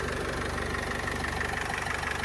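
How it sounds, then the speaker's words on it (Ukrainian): A 2013 Renault Trafic van's 2.0-litre Euro 5 diesel engine idles steadily nearby, a low even clatter with rapid regular knocking pulses and no speech. "Та звичайна робота євро 5 мотора."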